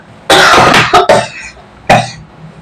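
A woman coughs hard in a short burst of several harsh, close coughs, followed after a pause by one more single cough, with no talk over it.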